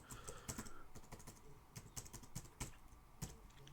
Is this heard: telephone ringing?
no